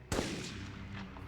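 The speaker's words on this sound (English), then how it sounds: "Who's shooting?" A single loud, near gunshot from the video game Medal of Honor, a sharp crack followed by a rumbling decay.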